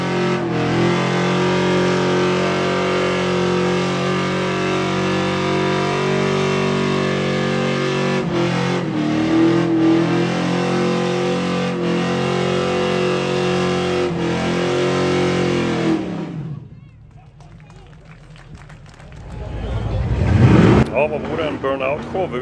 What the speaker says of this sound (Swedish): Här kör vi Charger så det ryker.